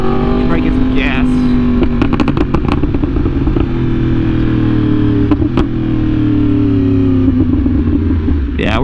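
A Yamaha R1M sport motorcycle rides through Sunday traffic, its engine droning steadily and loudly up close throughout, with wind noise and brief clatter.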